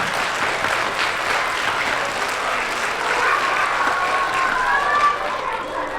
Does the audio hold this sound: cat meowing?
no